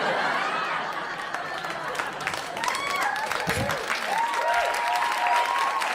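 Applause from a stand-up comedy audience, a sustained wash of clapping mixed with scattered laughter and chatter while the comedian's voice speaks over it.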